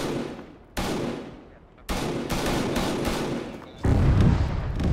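Enemy gunfire from Turkish invading forces in the military game ARMA 3 comes in loud, sudden bursts of rapid shots that start and stop several times, with sustained crackling between the volleys.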